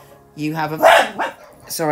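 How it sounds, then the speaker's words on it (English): Household dogs bark close by in a few sharp, loud bursts, with someone talking over and between the barks. "excuse my dogs."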